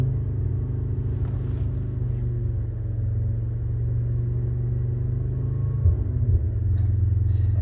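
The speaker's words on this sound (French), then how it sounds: "Tu fais un launch. Ouais, on va essayer." A car engine holds a steady, loud low drone at raised revs while staged for a launch-control start, with a brief surge in revving near the end, heard from inside the cabin.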